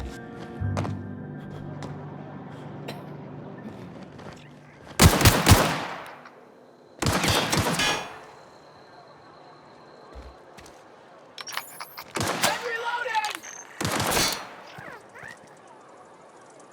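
Gunfire in The Outer Worlds video game: several loud bursts of shots in clusters with pauses between, some rapid volleys, over a quiet background hum.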